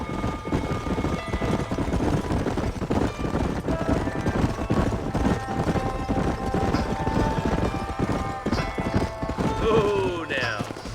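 Horses ridden in the video game Red Dead Redemption, a dense, continuous clatter of hooves from several mounts under a rumbling backdrop, with a horse whinnying near the end.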